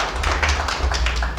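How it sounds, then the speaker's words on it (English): An audience at an educators' forum dinner claps briefly, a short burst of scattered hand claps over room hum. "I request that you clap for them in that very harmony"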